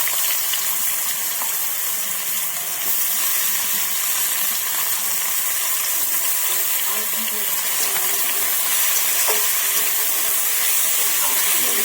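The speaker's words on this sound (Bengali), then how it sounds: "অল্পটাই ভেজে নিচ্ছি" Potatoes fry in a pan, a steady loud sizzle and hiss running throughout with no break.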